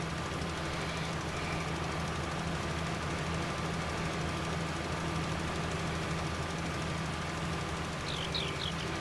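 A tractor engine in Farming Simulator 19 runs with a steady, moderate drone that carries through the whole stretch without change, with no talking over it.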